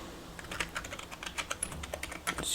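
Steady typing on a computer keyboard while entering text into a web design layout: quick, fairly close key clicks in an irregular but continuous rhythm, with no talking over them.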